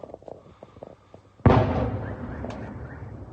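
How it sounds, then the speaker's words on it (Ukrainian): Explosion over houses during a drone attack on an oil refinery: a sudden loud boom after a few faint pops, followed by a long rolling rumble and echo that slowly fades. "На глазах только что бахнул где-то над домом."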